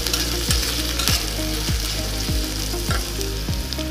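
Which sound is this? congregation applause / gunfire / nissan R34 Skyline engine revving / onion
onion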